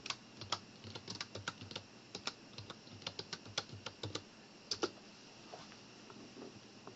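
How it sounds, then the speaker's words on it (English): A name and password are typed on a computer keyboard, with quick, close, fairly quiet key clicks in uneven bursts that taper off near the end. "When you activate it, you have to type in your name"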